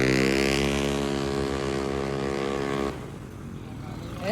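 Yamaha Aerox V2 scooter with a basic CVT setup and aftermarket pipe revs hard and close, a steady high-pitched engine drone that cuts off abruptly near the end, leaving rougher low rumble.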